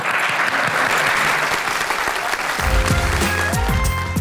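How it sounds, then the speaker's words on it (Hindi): An audience claps continuously on a television talk show, dense applause throughout, with music and a voice starting up underneath in the last second or two. "तालियां बजाएं।"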